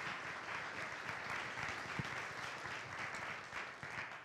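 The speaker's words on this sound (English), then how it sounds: "I want to give her a big round of applause." A round of applause from an audience at a military garrison update briefing, a dense and steady clatter of many hands lasting several seconds at moderate distance, with no voices over it.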